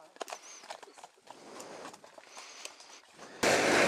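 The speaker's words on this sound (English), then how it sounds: "last thing you want to do off-road is spook a horse" Horse on an off-road byway near Bristol, its hooves clopping in an irregular series of faint, fairly distant steps, ending with a sudden burst of loud broadband noise.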